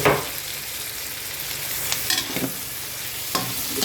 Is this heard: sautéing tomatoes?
yes